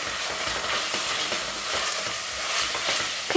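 Pepper paste and tomato paste stirred in a pan for stuffed Cretan squash with minced meat, giving a steady soft sizzle with spoon scrapes, close and continuous, no voices.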